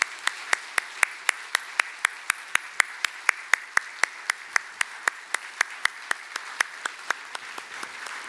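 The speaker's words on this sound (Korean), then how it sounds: "우리 목사님께 큰 박수를 보내주시면 감사하겠습니다." Crisp, evenly spaced rhythmic clapping in unison from a church congregation during a Sunday service, steady at about three claps per second throughout with no talk.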